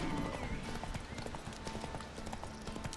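Horse hooves clop rhythmically in The Witcher 3 video game, a steady close galloping beat of hoof strikes running the whole way through under light game ambience.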